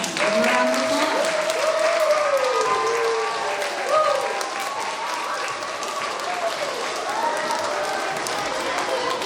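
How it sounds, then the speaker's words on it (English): A school drama club audience applauds the campers and cast of Camp FRS, steady loud clapping filling the room with scattered voices and cheers over the top throughout. "Give them a round of applause."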